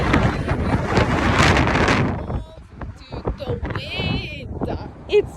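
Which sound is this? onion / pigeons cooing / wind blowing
wind blowing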